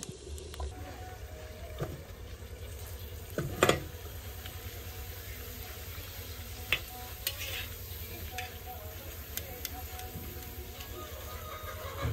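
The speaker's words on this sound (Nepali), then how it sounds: "म यहाँनिर मसला भुट्दैछु" Dried chillies, cumin, coriander and garam masala roast in a pan with a faint, steady sizzle, broken by occasional scrapes and clinks of stirring, one louder clatter near the middle.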